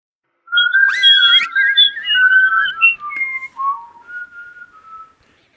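Several nervous children whistle, trying to sound nonchalant: a wavering, sliding melodic whistle with quick trills and warbles, close and clear, running a few seconds alone before fading out.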